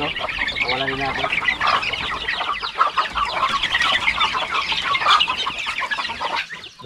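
Farm chickens cluck and call in a steady flock chatter, fairly close and loud, with someone talking over them at times.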